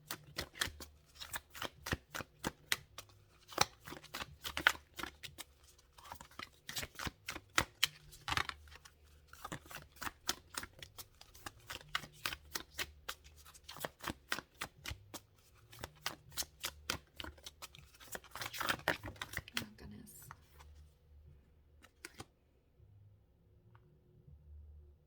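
Tarot cards being shuffled up close in rapid flurries of crisp riffling and slapping, fading to sparse handling near the end.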